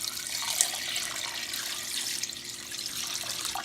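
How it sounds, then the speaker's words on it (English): Water pours steadily over calcite crystals sitting in a container, a continuous close splashing hiss like a running tap, with one small clink near the start. "now you pour water on them"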